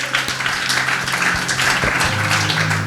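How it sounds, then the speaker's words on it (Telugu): Congregation clapping loudly at a church worship service, a dense steady wash of many hands throughout with a low hum underneath. "గట్టిగా చప్పట్లు కొట్టండి."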